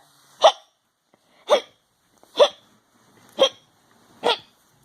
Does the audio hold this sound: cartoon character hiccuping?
yes